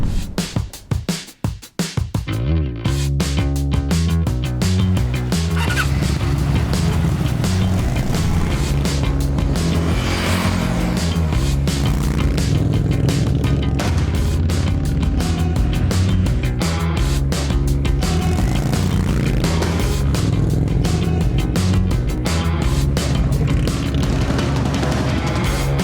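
New Indian Scout motorcycles ride out together at a launch event, a continuous loud engine drone with rumbling exhaust and wind noise throughout, after a brief startup at the beginning.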